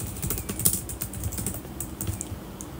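A computer keyboard typing a place name, a steady run of fast, close key clicks over a hissy background, with no voice.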